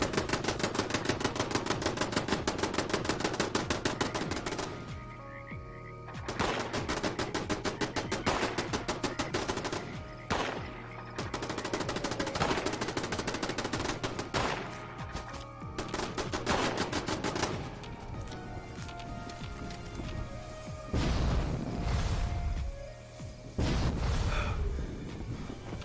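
Automatic turrets firing at a Deathclaw in Fallout 76, long rapid machine-gun bursts with short pauses between them, loud and steady, with occasional heavier impacts.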